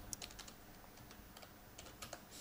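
Fingers tapping out a command on a computer keyboard, a quick irregular run of close, light key clicks with short pauses, no talking.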